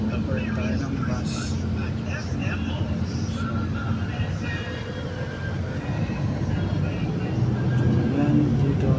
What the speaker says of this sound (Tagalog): medyo malakas-lakas ng takbo ng bus